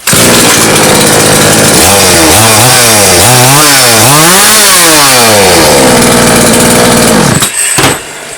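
A repaired Chinese petrol chainsaw runs loud and close, its engine pitch rising and falling in repeated revs before settling back to a steady idle and cutting off near the end.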